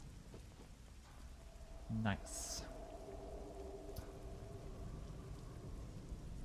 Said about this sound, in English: We're right now in we were in rainy weather, although I hear based on the audio that the weather is about to change.